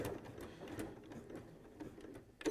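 A sewing machine stitches a seam in fabric, its quiet, steady mechanical whirr pulsing in a fast rhythm, with a slightly louder clack near the end.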